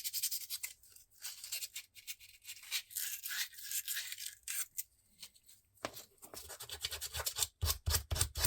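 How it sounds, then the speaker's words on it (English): Copper being sanded by hand, a close, dry scratchy rubbing in short irregular strokes with brief pauses, then a faster run of quick back-and-forth scrapes near the end. "We're going to use copper here. Should sand this too."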